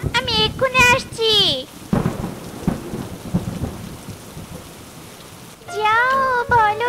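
Heavy rain hisses steadily with rumbles of thunder in an animated fox cartoon scene, while character voices speak briefly at the start and again near the end.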